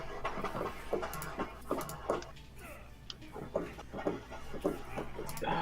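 A dog pants in quick, rhythmic breaths close by, with small clicks and shuffling noises mixed in.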